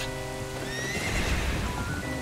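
A horse whinnies loudly in the video game Zelda: Ocarina of Time, a rising and falling neigh, followed by a rush of hoofbeats and noisy movement close by.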